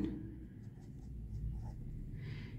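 A pen writes numbers on paper during a fourth-grade decimals maths lesson, giving a faint, steady scratching close by with a low room hum and no speech.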